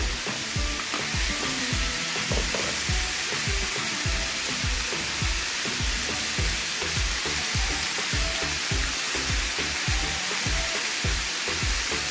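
Potatoes frying in hot oil with a little salt and turmeric for a vegetarian ghugni, a steady dense sizzle throughout, close up, with frequent light clicks and taps of stirring.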